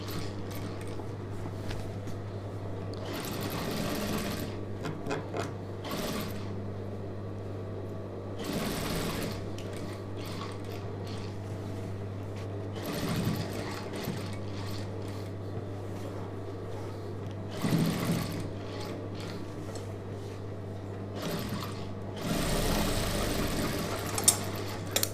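A sewing machine runs in steady bursts while stitching the neckline of a star-neck chudidhar, its close, continuous mechanical whir starting and stopping several times with short pauses between runs.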